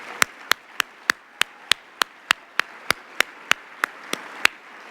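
A single person or very few people clap slowly and steadily, about seventeen sharp, evenly spaced claps, for city council members who passed a budget, at a mayor's 100-day speech.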